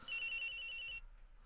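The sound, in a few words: telephone ringing in video game Ace Attorney Investigations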